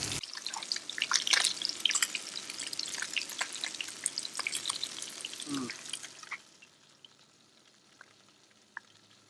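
Crappie fish nuggets frying in a pan, a close, crackling sizzle with scattered pops that fades out over the last few seconds.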